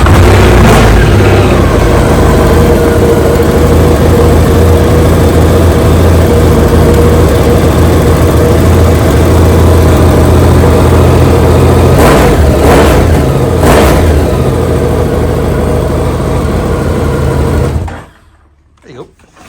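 A 2010 Honda VFR1200F with a new DAM exhaust starts and runs loudly close by, its engine note rising with a few sharp revs partway through before cutting off near the end.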